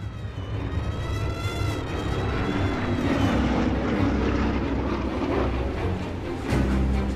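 A B-17 bomber lands, its engines giving a loud, sustained roar with a low rumble that holds steady through the whole stretch and never drops away.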